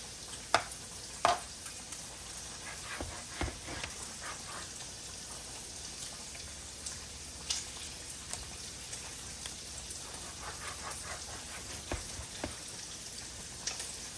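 Very thin, small sausages sizzle in a frying pan, a steady soft crackle and hiss with scattered sharper pops and clicks of cooking, fairly quiet and without talking.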